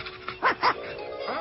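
A cartoon dog from a retro animated Where's Wally series gives two short, close yipping barks, followed by a faint whimpering whine.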